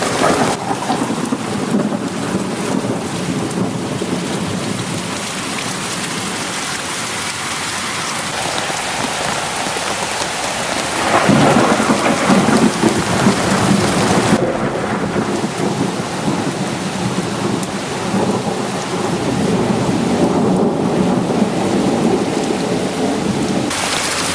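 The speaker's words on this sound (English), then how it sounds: "So much rain is hitting my camera." Heavy rain drums steadily and loudly on a camera during wild camping in the UK, a dense, continuous hiss and patter that swells louder partway through, with rumbling thunder beneath and no talk.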